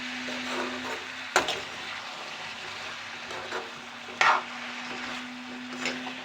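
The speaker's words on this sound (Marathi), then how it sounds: "बरं मिक्स करून घेऊया असं" Beans bhaji being stirred in a cooking pan, with soft scraping and sizzling throughout and two sharper utensil knocks against the pan, steady and close with no talk.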